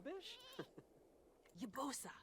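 Sheep and goats bleat in a farming life-simulation game, a few short wavering calls rising in quick succession over a quiet background with pauses between them.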